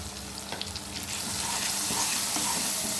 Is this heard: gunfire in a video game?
no